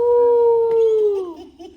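A child imitates a wolf howl with a single sustained, wavering voiced howl that slides downward and trails off after under two seconds, loud and close.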